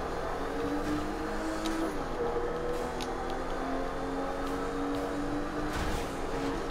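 Car engine driving around in GTA 5 Online on a lowrider, a steady continuous motor drone with slight revving and tire noise, moderately loud throughout with no talk.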